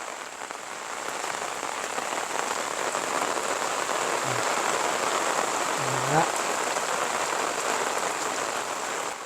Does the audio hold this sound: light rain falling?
yes